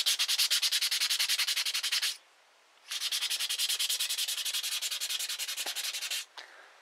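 A metal motorcycle part is rubbed left to right during hand polishing: rapid, even scrubbing strokes, close and clear, with a brief pause after a couple of seconds, then another long run before stopping.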